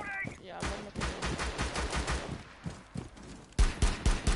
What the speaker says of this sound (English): Stop shooting me, fool!